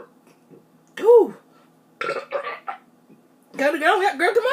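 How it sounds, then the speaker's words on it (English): A woman burps loudly several times after drinking soda during a no-burping challenge, with a long drawn-out belch followed by shorter voiced burps and a final extended one, close and clear with brief pauses between. "I can't stop burping."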